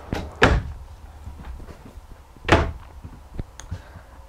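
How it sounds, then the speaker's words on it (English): Deep RV drawers on ball bearing glides in a 2015 Keystone Outback 322BH travel trailer, shut with two solid thuds about two seconds apart, plus lighter knocks and rattles in a quiet interior. "You also have these three deep drawers on ball bearing glides here."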